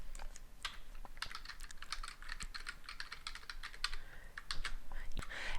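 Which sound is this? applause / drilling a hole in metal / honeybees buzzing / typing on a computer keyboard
typing on a computer keyboard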